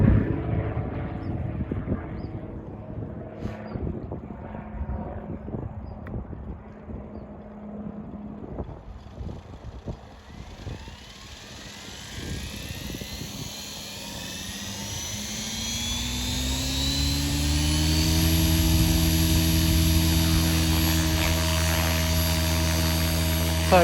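A radio-controlled helicopter hovers with a steady, high-pitched rotor and motor whine that grows louder and smoother midway through. Wind noise and light handling clatter come earlier, and nobody speaks.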